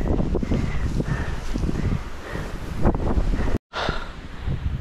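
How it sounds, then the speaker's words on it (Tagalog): Strong wind buffets the microphone with loud, continuous rumbling gusts and roaring noise, briefly cutting out near the end. "grabe lakas ng hangin"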